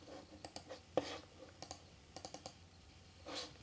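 Clicks from a computer mouse working in Dreamweaver, heard close and quiet as short sharp taps in small clusters, some paired like double-clicks, against a faint room hush.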